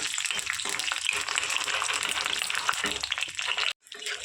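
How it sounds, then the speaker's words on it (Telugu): Dried chillies, cumin, urad dal and mustard seeds fry in hot oil for a tempering, giving a close, busy crackle and sizzle with small pops, ending in a sudden brief drop before the frying resumes. "నేను మిరపకాయలు, జీలకర్ర, మినపప్పు, ఆవాలు వేసి మంచిగా ఫ్రై చేసుకోవాలి"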